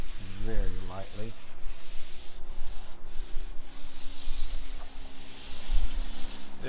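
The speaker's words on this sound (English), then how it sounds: "we are tacking it off and hopefully get anything that got stuck, kind of dusting it off very lightly" A painted surface is tacked off and lightly dusted, making a continuous soft rubbing and wiping hiss up close, with a brief whirring tone near the start.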